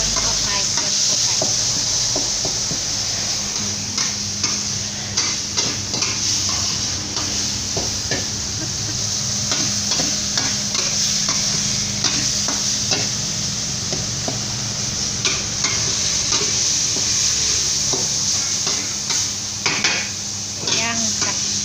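Aromatics stir-fried in a pan while cooking a Lao rice dish with gravy in Luang Prabang, a continuous sizzle under repeated scraping and clinking of utensil against pan, with occasional talk in the background.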